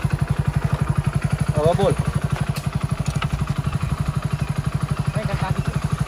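A motorcycle engine runs steadily nearby with a fast, even thumping pulse while someone learns to ride it, and a voice speaks briefly over the engine.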